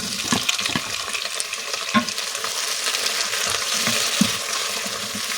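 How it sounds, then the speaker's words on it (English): Onions and tomatoes sizzling and frying in a pan, with steady crackling and occasional stirring scrapes, heard close with no talking. "you use them at this point when you are frying your onions"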